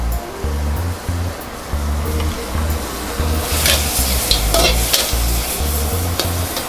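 Shrimp, squid and holy basil stir-fried over high heat in a wok, a steady loud sizzle with rhythmic scraping strokes of the spatula and occasional sharper crackles.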